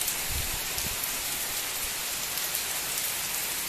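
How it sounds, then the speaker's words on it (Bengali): Steady rain falls outdoors, a continuous soft patter of drops on surfaces, moderately quiet and unbroken, with no voices. "আবার বৃষ্টি শুরু হয়ে গেছে"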